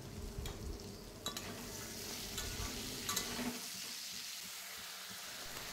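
A paste of ground chilli, mustard and poppy seed mixed with water cooks in a wok, sizzling and bubbling softly with stirring scrapes, then quieting after a few seconds.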